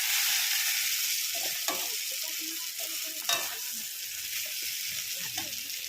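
Chicken and potato curry stirred in a frying pan, with a steady sizzle and scraping spoon strokes that come irregularly, close up, and no talking.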